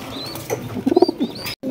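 A racing pigeon coos in a few short, close bursts that rise and fall, with a faint flutter of wings and light chirps in the background.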